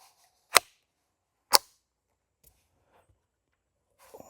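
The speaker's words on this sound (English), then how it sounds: "Just shoot out there at a tree." Two sharp, quiet rifle shots from a suppressed budget rifle fired at a tree on an outdoor trail, spaced about a second apart and followed by faint rustling.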